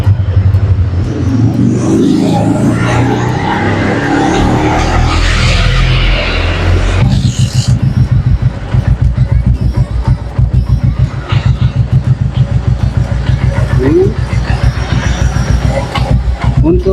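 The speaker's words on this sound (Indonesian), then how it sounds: "Oke, kita coba nyalakan mesinnya." A 1984 Binter Merzy motorcycle engine is started and blipped, a loud close rumble with a rising rev, then settling into a rapid, pulsing idle.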